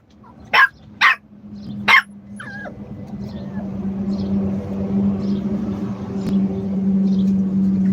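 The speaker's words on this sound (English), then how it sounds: "Bark." A dog gives three sharp, loud barks in quick succession close by, followed by a faint whimper and then a low steady rumbling background.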